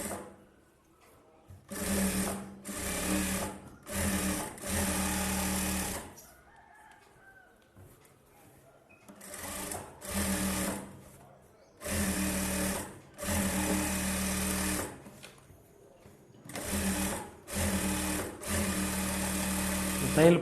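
A sewing machine runs in repeated bursts of steady rapid stitching on an aari work blouse, each run lasting one to two seconds with short pauses between, close and clear, while a voice talks during the gaps.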